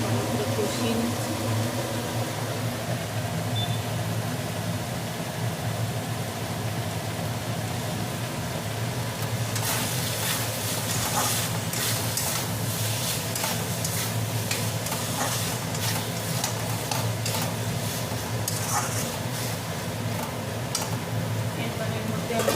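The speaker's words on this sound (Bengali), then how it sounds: "আলু দিয়ে একটু ভালো করে কষিয়ে নিচ্ছি।" Potato chunks sautéing and being stirred in a pan, a constant loud sizzle with repeated scraping strokes of a spoon, close up.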